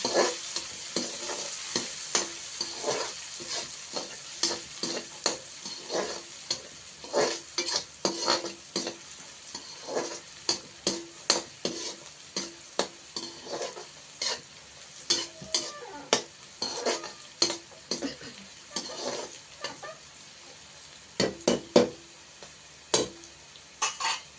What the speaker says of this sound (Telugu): ఇప్పుడు ఆ నీళ్ళతోనే వేగిపోతుందండి బాగా